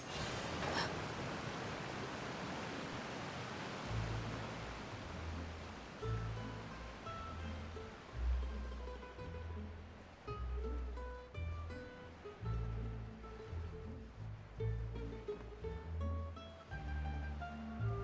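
Steady washing surf of ocean waves in Genshin Impact, a soft continuous broadband hiss under a gentle melodic music bed that enters after a few seconds, no talking.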